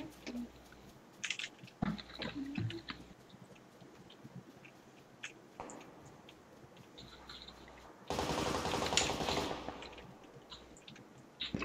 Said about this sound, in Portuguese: tem tiro aí na frente